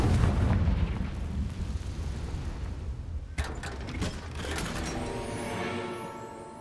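A Confringo fire spell cast in Hogwarts Legacy on PS5 bursts with a loud, rumbling blast that tails off into a crackling, ringing decay. No voices are heard.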